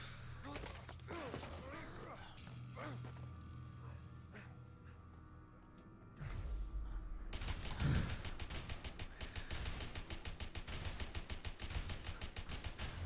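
Video game gunfire: a few scattered shots under faint background noise, then at about seven seconds a sustained, loud burst of rapid automatic fire that keeps going until the end.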